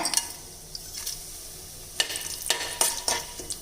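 Whole spices (cinnamon, cloves, cardamom, bay leaf, black stone flower) crackle and sizzle in hot coconut oil, with a few sharp bursts of popping and stirring scrapes over a quiet hiss.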